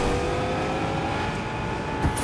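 A car drives along steadily in Fortnite, a continuous mid-level engine drone with a faint rising whine and no talk over it.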